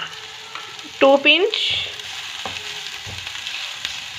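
Ajwain seeds sizzle and fry in a pan with a soft, steady crackle at close range, while someone briefly speaks over the cooking.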